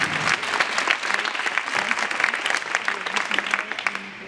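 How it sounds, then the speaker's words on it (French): A crowd at a Zumba charity event against cystic fibrosis applauds warmly, producing a dense, sustained patter of many hands clapping together that fades slightly toward the end. "je crois qu'on peut encore l'applaudir parce qu'elle est vraiment très méritante"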